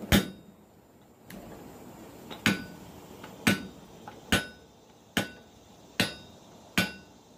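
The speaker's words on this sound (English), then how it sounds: "The old treadle hammer." A treadle hammer forging metal: blows ring out one at a time, about one per second, each a sharp clang with a short ringing decay, nearby and otherwise quiet.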